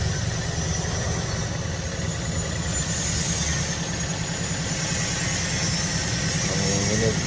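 A third-generation Toyota Vios engine idles roughly with a misfire, a continuous close-up rumble with an uneven, shaky pulse and no talking.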